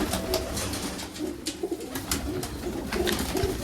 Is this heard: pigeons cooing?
yes